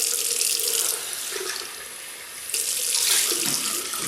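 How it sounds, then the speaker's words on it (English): Tap water runs steadily with a bright, hissing splash. The flow shifts briefly as if hands pass under it, then pours strongly again. "I'm going to rinse off."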